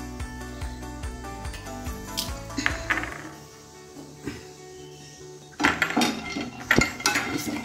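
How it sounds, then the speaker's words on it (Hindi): Peanuts are stirred and roasted in a hot pan, producing close, rapid metallic clinks and scraping taps of a spoon against the pan, in uneven bursts with brief quieter gaps. "अब मैं इसको पैन गरम करके मूँगफली के दाने डाल दिए, इसको हल्का रोस्ट कर दीजिए।"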